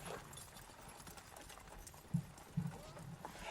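Horse hooves clip-clopping on a road, a faint steady stream of hoofbeats with a few sharper strikes, somewhat distant under a quiet background.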